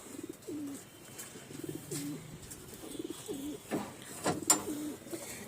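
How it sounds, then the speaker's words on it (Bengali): Domestic pigeons in a loft coo repeatedly in short, rolling phrases, several birds overlapping at close range, with a few sharp wing flaps or clatters near the end and no talking. "আর এদিকটাতে বন্ধুরা মাদি পায়রাগুলো সব আছে"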